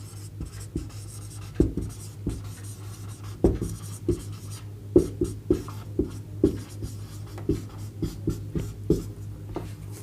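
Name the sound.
writing on a board while explaining physics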